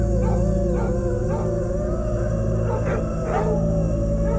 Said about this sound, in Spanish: Primero fueron aullidos lejanos, perros alterados en lo alto del cerro.